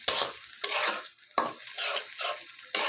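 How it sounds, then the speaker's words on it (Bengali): Ginger garlic paste is stirred into a frying pan while cooking a dried fish curry, giving several close, rhythmic scraping sweeps over a soft sizzle, with short pauses between strokes. "এখন সবটা ভালো করে মিক্সড করে নেব"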